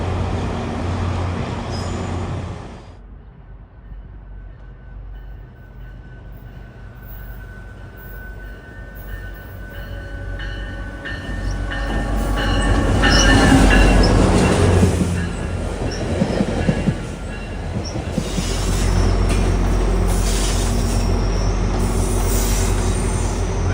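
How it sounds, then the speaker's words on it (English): A GO Transit commuter train rumbles past close by, wheels clattering and squealing on the rails, the noise building to a loud peak before staying heavy. "Train in the background is going to Mount Pleasant"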